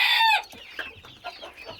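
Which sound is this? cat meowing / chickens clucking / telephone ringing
chickens clucking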